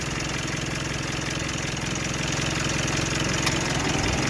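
A Mitsubishi Outlander running with its air conditioning compressor engaged, a steady, loud, close engine drone with dense low rattle and a slight rise partway through, no voices.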